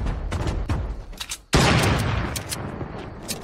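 Rapid video game gunfire aimed at a mech, a dense run of sharp shots that builds into a loud sustained barrage, with voices from players underneath.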